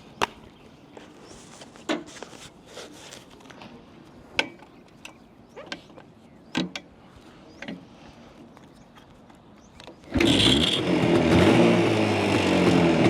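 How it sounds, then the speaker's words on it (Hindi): Scattered mechanical clicks and taps come first, then a 1990 Jawa 350cc two-stroke motorcycle engine bursts into life and runs with a loud, rough, raspy roar. "ये है जी 2 स्ट्रोक बाइक की 350 सीसी में, ये इसकी बाइक की साउंड की आवाज़ है।"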